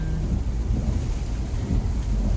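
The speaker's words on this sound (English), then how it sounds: "it's been raining every day" Steady rain with low thunder rumble heard from inside a car, a continuous dense wash without voices.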